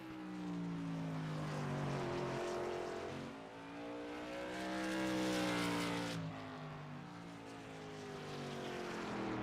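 A modified race car running a qualifying lap at Concord Speedway, its engine droning loud and steady with rising and falling pitch as it circles, swelling louder midway, then fading as it passes.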